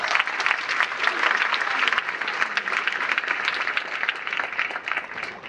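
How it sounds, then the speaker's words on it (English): An audience at the SIGGRAPH computer graphics conference gives a steady round of applause, a dense wash of clapping from a medium-sized crowd that holds for several seconds and then starts to thin out. "let's give the USD folks a little applause"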